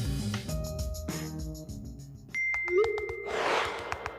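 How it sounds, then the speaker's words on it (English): A smartphone notification chime sounds once as a bright ringing ping, clear and near. It comes after a low musical passage and is followed by a hiss of noise. "This is the sound of Dan's phone."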